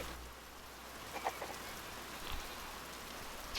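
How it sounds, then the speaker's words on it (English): Steady rain falls in the video game Pentiment, a soft continuous patter with a few brief faint clicks and splashes, no voices. "Stormy morning."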